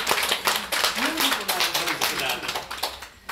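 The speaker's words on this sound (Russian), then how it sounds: "Аплодисменты." Quick, steady clapping from a few people, close and moderately loud, with a voice briefly heard beneath it.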